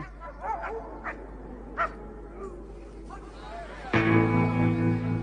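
A dog yips and barks in several short, scattered bursts, followed by a louder, sustained sound toward the end, with voices in the background.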